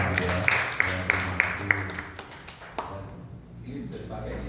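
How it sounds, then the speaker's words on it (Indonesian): A gathering at a church prayer group meeting claps, with a few sharp distinct claps standing out over a murmur of voices before the sound dies away into quiet talk. "kita berikan tepuk tangan untuk kemuliaan Tuhan semua"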